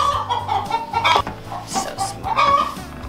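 Chickens in a barn cluck in repeated bursts while being fed, several birds close by with their calls rising and falling continuously over the whole stretch.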